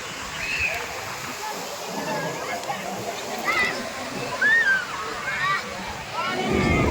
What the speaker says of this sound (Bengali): দেখুন বন্ধুরা জাস্ট জলের ঢেউটা, এত সুন্দর লাগছে পুরীর ঢেউটা